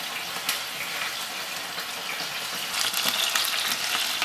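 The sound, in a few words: white fish frying in a pan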